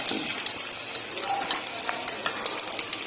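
Coated potato tikki cutlets fry in hot oil in a pan, making a steady, dense close sizzle with scattered crackles and pops throughout, no speech.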